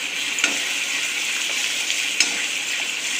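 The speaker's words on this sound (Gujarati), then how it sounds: "ચાલો 2-3 મિનિટ આપણે કાંદાની પેસ્ટ મસ્ત એવી કપડાઈ નાખીએ" Onion paste frying and sizzling steadily in a pan, a constant close hiss with a few soft stirring scrapes and clinks.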